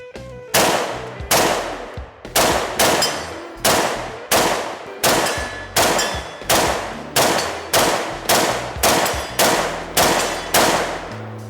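Rifle fitted with a reflex sight and Tapco extended 20-round magazines firing a string of about fifteen loud, sharp shots at an uneven pace, each crack followed by a short ringing decay, with no talking.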